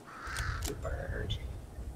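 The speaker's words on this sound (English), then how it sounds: "We will not mess with the bird though." A crow in the Fortnite video game caws a few times at moderate distance, harsh and nasal, with muffled game ambience and faint voices underneath.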